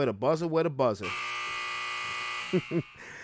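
A steady electronic buzzer drones loudly for about one and a half seconds, sounding as a single sustained tone between bursts of talking before and after it.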